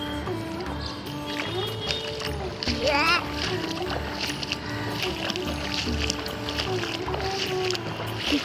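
Water splashes and sloshes as someone wades on foot through floodwater beside a culvert, the steady watery churning heard up close under ongoing talk.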